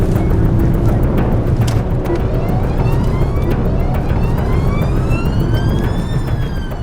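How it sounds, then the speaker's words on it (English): A police siren wails continuously, sweeping up and down in pitch over loud road and engine noise, near and sustained. "blue light, sirens on"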